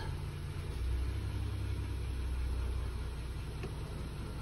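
A 2019 Honda Ridgeline RTL with a six-speed automatic idles steadily as the transmission is shifted through its gears, producing a low, even engine rumble close by with no talking and no distinct shift clunks.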